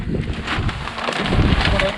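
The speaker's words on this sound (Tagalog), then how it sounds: "Kasi malakas yung hangin." Strong wind buffets the microphone in loud, rumbling gusts during a rainstorm in the Philippine countryside, with a rushing roar that swells and ebbs across the moment.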